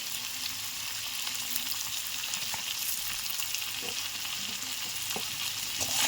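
Food sizzles steadily in a pan after salt and turmeric powder go in, with a constant hiss and a few soft stirring knocks, close and moderately quiet with no speech.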